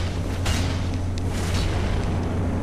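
A low, rumbling blast from an exploding enemy in Dark Souls 3, a dull boom rolling over a constant deep drone with a couple of brief bursts, heavy and sustained throughout.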